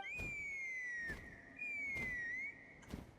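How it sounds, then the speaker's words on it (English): A high, sustained whistle in the game Genshin Impact, sounding in two long sliding tones separated by sharp thuds, fairly loud and clear with no talk. "That sounded like a whistle."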